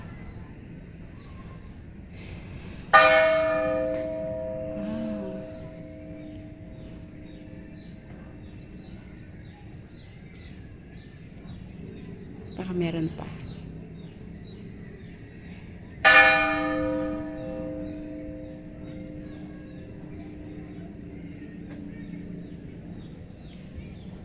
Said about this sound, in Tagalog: Tumunog yung kanilang bell.